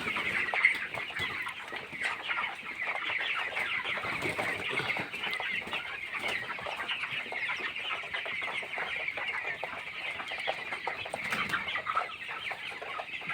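Broiler chickens around eighteen days old, Paragon chicks on Advance feed, cluck and chirp together as a dense, continuous flock chorus inside a poultry shed, steady and close with occasional wing flaps, no talking.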